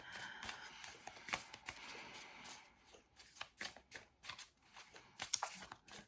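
Tarot cards being shuffled by hand, quiet close riffles and slides arriving in irregular bursts with short pauses between them.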